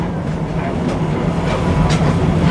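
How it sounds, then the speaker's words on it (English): A propane-fired steam locomotive rumbles along the rails nearby at Six Flags St. Louis, with a steady low roar and faint rhythmic clacking, continuous throughout. "The Tommy G is a real working steam locomotive."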